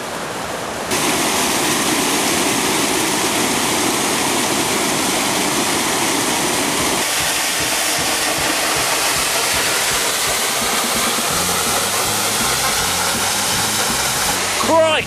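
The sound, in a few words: Falling Water Falls waterfall, Tennessee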